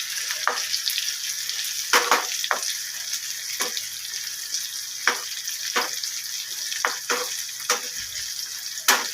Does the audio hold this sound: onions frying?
yes